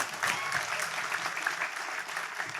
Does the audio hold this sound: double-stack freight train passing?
no